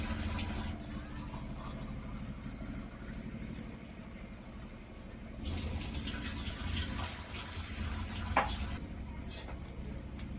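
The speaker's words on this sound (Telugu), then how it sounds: "నేను 2 గ్లాసుల వాటర్ అయితే వేసుకుంటున్నాను" Water pours from glasses into a pot of country chicken pulao, with a soft, steady splashing and a few utensil clinks against the pot, fairly faint and without speech.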